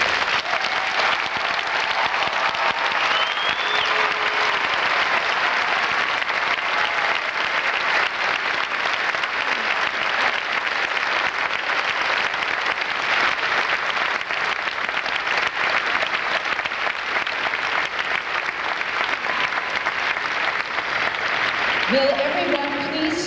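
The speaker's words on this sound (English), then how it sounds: "Please join me in another round of applause for today's graduates." Audience at a graduation ceremony applauding the graduates, a sustained dense wash of clapping from a large crowd lasting over twenty seconds, steady and fairly loud with little variation.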